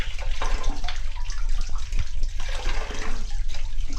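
Tap water runs steadily while fish is washed and cleaned by hand, a continuous splashing rush with small knocks and sloshes, close and fairly loud, no speech.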